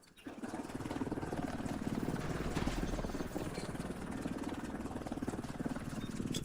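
A helicopter in the video game The Division 2 arrives for extraction, its rotor chop a steady, fairly loud pulsing thrum that holds throughout with little change.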